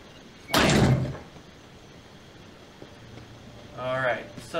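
A heavy cement door in The Walking Dead video game, a loud grinding slide lasting about half a second, then quiet, followed by a second rumbling scrape near the end.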